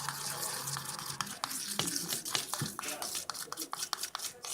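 Flour being stirred into hair conditioner in a bowl for butter slime gives repeated scraping and clicking strokes at close range, with a steady background hiss throughout.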